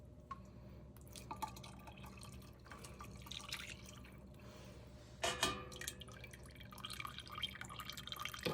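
Homemade chicken broth strains through cheesecloth in a kitchen, falling as quiet, close drips and small trickles in an irregular patter, with a brief louder splash midway and no speech.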